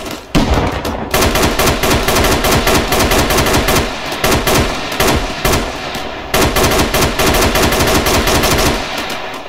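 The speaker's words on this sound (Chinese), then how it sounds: "站上车上开火，然后下来。" Rapid automatic gunfire from a vehicle in the military shooter ArmA 3 blasts in loud, dense bursts with brief pauses between them, close and dominant.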